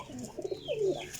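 A Teddy pigeon gives a short, soft coo lasting about a second, close and quiet against a faint background.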